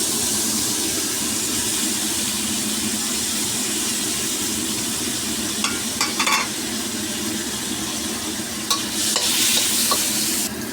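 Ginger sautéing in a pan for sinigang bangus, with fish liver already in, gives a steady close sizzle and hiss throughout, joined near the end by a few light utensil clinks and scrapes, no voices.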